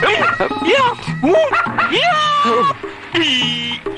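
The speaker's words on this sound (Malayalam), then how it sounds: "പട്ടി" Dog barking and yelping in a Malayalam comedy film scene, a series of sharp, close, loud barks with whining yelps between them, mixed with what sounds like human laughter.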